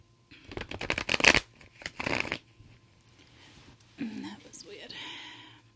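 Tarot cards are shuffled in a few quick riffling bursts, up close, followed by soft whispered speech.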